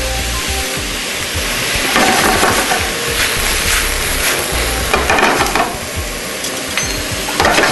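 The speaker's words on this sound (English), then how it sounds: "and start sauteing" Sliced mushrooms and diced onions sauté in a hot pan, giving a steady close sizzle and frying crackle, with bursts of stirring and scraping rising around the middle and near the end.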